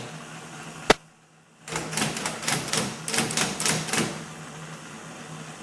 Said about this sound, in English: and then if I start typing